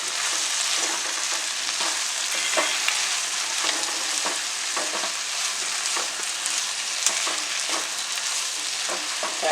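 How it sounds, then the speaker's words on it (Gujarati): Soya chunks and potato pieces fry in spices over a low gas flame while being mixed, giving a steady, close, dense sizzle with soft scraping stir strokes throughout and no talk. "આ રીતે મિક્સ કરીને થોડીક વાર આને પાકવા દેવું મસાલામાં."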